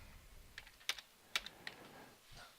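Keystrokes on a computer keyboard while entering a line of configuration code: a few quiet, scattered clicks with two sharper taps, soft and close in an otherwise quiet room.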